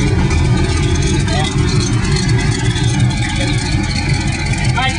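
An Allard J2 Mille Miglia car engine runs loud and close, a dense, steady rumbling idle with a rough throb holding for the whole stretch, with a voice speaking over it.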